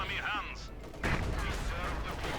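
Gunfire crackles in a Company of Heroes 2 World War II battle as an attack advances, with a burst starting partway through, followed by sustained noisy firing and a voice talking over it.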